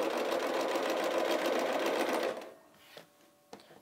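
A sewing machine stitches quilt binding on a quilt-as-you-go project in a steady fast whir for over two seconds, then stops, followed by a couple of small clicks, close by with no talk.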